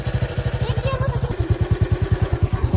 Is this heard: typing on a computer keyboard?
no